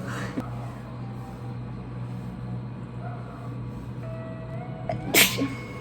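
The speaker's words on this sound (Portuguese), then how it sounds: "a seca aqui tá terrível. Então, assim, a espirração o dia inteiro" A single loud sneeze bursts out near the end, preceded by a quieter sharp breath, over a steady low hum in an indoor room during a dry spell.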